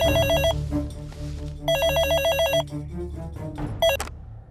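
A telephone rings in a Telugu comedy scene, three bursts of bright electronic trilling, each about a second long with short pauses between them, loud over a low background of other sound.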